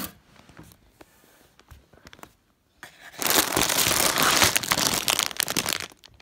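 Plastic bag of Lego pieces crinkles and rustles loudly up close, quiet handling at first, then a dense burst of crackling bag noise for the final few seconds.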